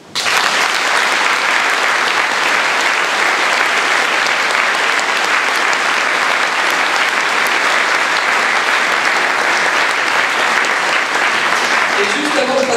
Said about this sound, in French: Et là, je crois qu'on peut l'applaudir.